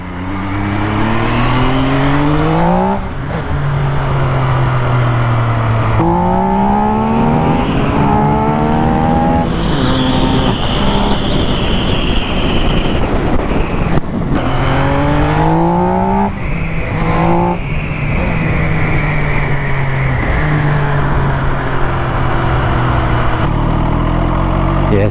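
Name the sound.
motorcycle engine at low revs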